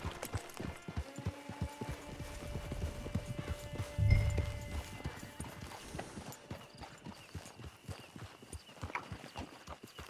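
A horse's hooves clip-clop in a steady walking rhythm in the Red Dead Online game, clear and close, with a brief low snort or whinny partway through.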